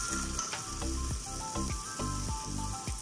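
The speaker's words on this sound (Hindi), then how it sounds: "अब मैं इसमें अदरक लहसुन का पेस्ट डाल दूंगी," Ginger garlic paste sizzles and crackles hard in a pan with browned onions, a steady loud frying hiss broken by repeated stirring scrapes, with no voices.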